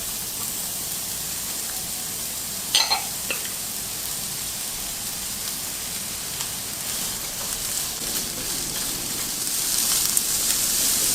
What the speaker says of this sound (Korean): 일단 당근하고 양파부터 볶아줍니다.